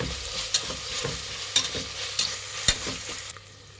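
Coriander leaves and mint stirred while frying in a pan, with a steady sizzle broken by a few sharp scrapes and clinks of the spoon against the metal, close and moderately loud before it quiets at the end.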